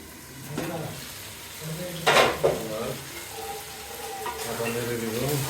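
Beef tripe curry is stirred in a pan, with a couple of sharp scraping bursts over a low simmering sizzle, while a voice hums or speaks faintly in between.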